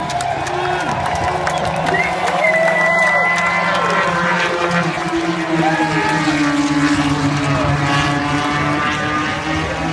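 KTM RC16 MotoGP development bikes from 2017, 1000cc machines, rev and whine around the Red Bull Ring in Spielberg, Austria, during a presentation event. Loud, rising and falling engine tones carry through the whole stretch, with crowd noise and commentary voices underneath.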